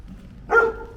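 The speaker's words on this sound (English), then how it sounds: "dog is just going off." A single short, loud bark from a dog close by on a rainy street in Plovdiv, Bulgaria, rising sharply out of a low background rumble.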